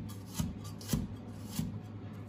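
A knife chops asparagus shoots into thick, stick-like chunks on a cutting board, three distinct close chops spaced about half a second apart over a quiet background.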